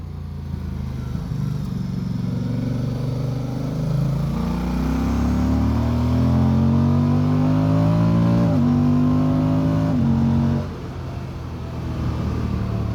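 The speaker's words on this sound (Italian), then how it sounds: "E un'altra cosa molto bella è il sound di questo motore, che mi piace tanto, il compact block." A 2024 Moto Guzzi Stelvio's compact-block engine revs and accelerates through several gears, pitch climbing and dropping at each shift, then settling back to a lower rumble near the end, with no talk over it.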